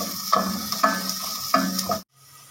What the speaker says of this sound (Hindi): प्याज डाल देंगे। तो प्याज को हमने गोल्डन ब्राउन करना है।